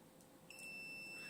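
A continuity tester's continuous electronic beep, tracing a wire in a SNES controller, starts about a third of the way in and holds steady to the end, high-pitched and fairly quiet.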